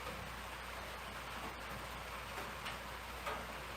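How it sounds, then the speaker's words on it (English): Light rain pattering on a roof, a faint steady hiss of drops with scattered soft ticks, quiet and continuous with no talk. "Hear that rain dropping on the roof?"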